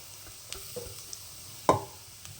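Ragi flour being stirred into fried onions in a pan gives soft, sparse scraping strokes, faint overall with one sharper scrape partway through.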